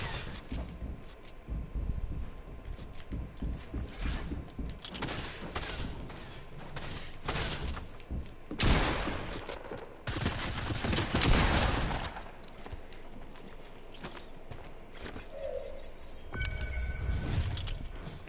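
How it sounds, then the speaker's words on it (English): Video game gunfire, rapid bursts of shots and a continuous crackling barrage running throughout, with loud dense stretches and brief lulls, no clear talk. "I'm getting shot at from somewheres."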